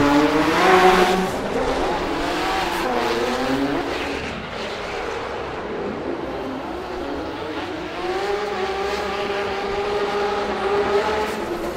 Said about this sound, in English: sounds like he's got a gearbox problem